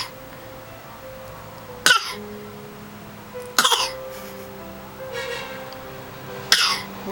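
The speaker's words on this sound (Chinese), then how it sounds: "你在假装咳嗽哦？" A small child fakes a cough at home, three short sharp forced bursts spaced a couple of seconds apart over a quiet room with faint background hum.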